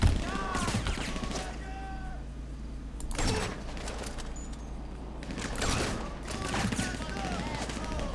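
Sniper rifle shots in the video game GTA 5, a few sharp loud gunshots spaced several seconds apart over game audio and background noise, with people talking in between.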